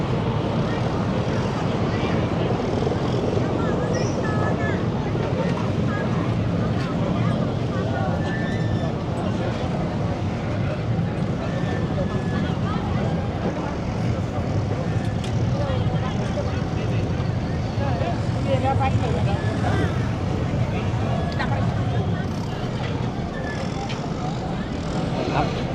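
A passenger boat on a clear river carries riders along, its engine giving a loud, steady drone that runs the whole way through while a voice talks over it.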